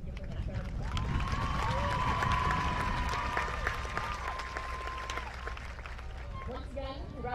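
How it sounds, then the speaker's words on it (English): A crowd applauding at a Class of 2022 high school graduation, steady clapping mixed with cheering voices and a sustained whoop rising above the noise, all at a moderate distance. "So I think you can give her that round of applause."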